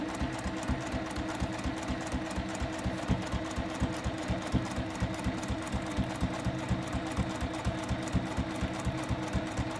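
A sewing machine stitches steadily across a paper-pieced quilt seam, its needle hammering in a fast, even rhythm with a low motor hum, close and clear, without any speech.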